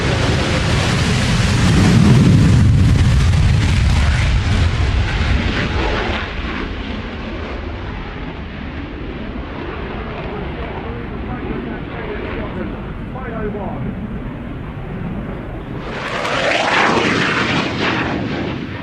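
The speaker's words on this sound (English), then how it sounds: "did I say F-35B? You know, the one that can hover." An F-35B fighter jet's engine roars loudly and steadily while hovering, a deep rumbling blast that dips slightly midway, then surges again toward the end, with voices talking over it.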